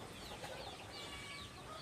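Chickens cluck softly in their coops on a small farm, a faint, steady murmur of fowl sounds with no voices over it.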